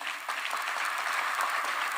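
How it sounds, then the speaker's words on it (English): Audience applause at a Kenyan National Defence University graduation ceremony, dense steady clapping filling the hall, moderately loud and unbroken. "A round of applause, please."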